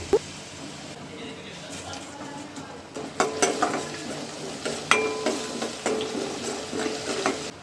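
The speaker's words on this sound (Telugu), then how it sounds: "ఇంక నేను పప్పు తాలింపు వేస్తున్నాను" Dal tempering (pappu talimpu) frying in a pan, with a steady low sizzle and scattered metallic clinks and scrapes of stirring that grow louder in the second half, under a speaking voice.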